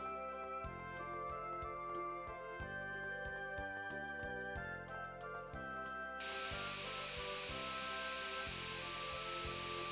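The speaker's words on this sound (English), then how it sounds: "A geyser is a type of hot spring that periodically erupts with boiling water and water vapor." A geyser erupts in Tales of Symphonia, a harsh, wide hiss of spraying water and steam that bursts in about two-thirds of the way through and continues loudly over the background game music.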